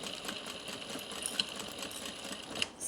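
A home sewing machine runs steadily, stitching a seam with a 3/8-inch allowance on a zippered makeup pouch, its rapid needle chatter continuous and close, with a couple of faint clicks along the way.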